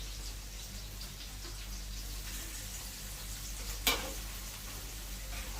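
Garlic sizzles in oil in a paella pan, giving a steady crackling hiss. Stirring scrapes come through clearly, with one sharper clatter partway through.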